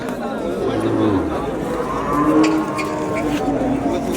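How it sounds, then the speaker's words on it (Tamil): A native cow lows at a busy cattle market in Vaniyambadi, two drawn-out moos sounding close and loud above a steady bed of crowd chatter and people talking nearby. "இங்கே பாருங்கள் ஒரு நாட்டு பசு மாடு நல்லா பெரிய பசு மாடு தான்"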